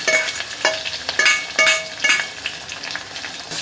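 A spoon stirring chillies, curry leaves and chopped tomato as they fry in a pan, with a steady sizzle and repeated scraping clinks of the utensil against the metal.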